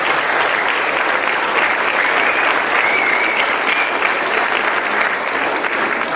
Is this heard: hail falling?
no